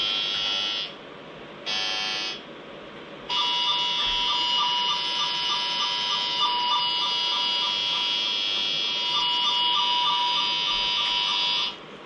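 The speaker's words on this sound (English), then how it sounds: "I've stuck the tone generator on the other cable, so you should be able to pick up using the tone" A cable tone tracer picks up a tone generator's signal, a loud steady electronic buzz that cuts out twice early on, then drones continuously before stopping abruptly near the end.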